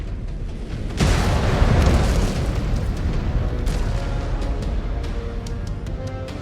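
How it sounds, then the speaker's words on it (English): An incoming missile explodes in the MechWarrior Clans video game: one loud, heavy boom that rolls into a long, rumbling roar and holds for several seconds, with faint mechanical clicks near the end. "Incoming missile."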